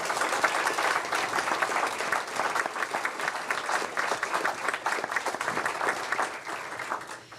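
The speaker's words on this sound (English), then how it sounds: "that right there just should receive an applause immediately" An audience at a city council meeting applauds a retiring fire chief after 36 years of service, dense, sustained clapping that fills the room for several seconds and fades slightly at the end.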